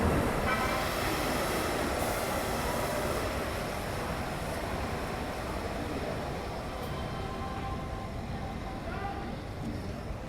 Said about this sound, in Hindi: सूरत मुजफ्फरपुर एक्सप्रेस भी एक आ रही है